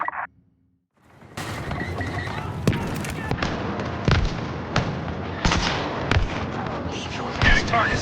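Turbo laser fire on the Death Star II in Star Wars Battlefront II booms repeatedly after a brief quiet start, loud blasts and impacts over a dense battle roar, with voices mixed in.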